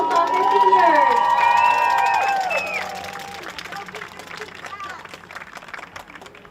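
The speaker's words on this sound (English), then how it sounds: "One more round of applause for all of our 2024 girls soccer seniors." Crowd cheering, shouting and applauding for senior players at a girls varsity soccer game, loud and dense at first, then fading into scattered claps and murmur.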